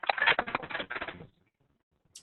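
A computer keyboard with a fault is typed on in a quick, close burst of clacking keystrokes lasting about a second, then silence apart from one faint later tap.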